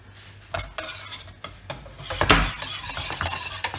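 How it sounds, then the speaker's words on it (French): A mixture heating in a pan is stirred with irregular scraping strokes and light utensil clatter against the pan, close and fairly loud, with no voices. "Alors on l'amène à ébullition tout en remuant."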